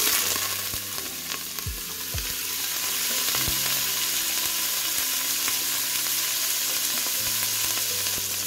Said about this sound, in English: Now we're gonna cook off these shells.